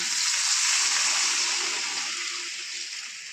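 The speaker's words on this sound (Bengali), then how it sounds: "এখন আমি এর মধ্যে দিয়ে দিচ্ছি জল।" Water pours steadily into a pan of catfish curry masala, giving a continuous close splashing rush that tapers slightly toward the end.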